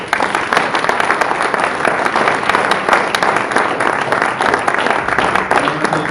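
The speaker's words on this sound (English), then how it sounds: "I think we should all give them a round of applause" Audience members at the Springfield ICON candidate forum for Wards 6-10 give a loud, sustained round of applause, with dense clapping holding steady throughout.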